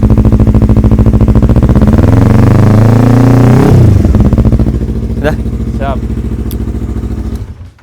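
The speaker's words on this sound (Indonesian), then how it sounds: "Nah ini suaranya nih, dari knalpot Mavionic." A 2014 Yamaha YZF-R25 motorcycle engine revs up loudly through a throaty aftermarket Mavionic exhaust, climbs in pitch, then drops back to a rumbling idle; brief words are spoken near the end.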